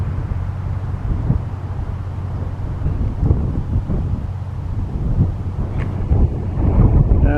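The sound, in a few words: strong wind blowing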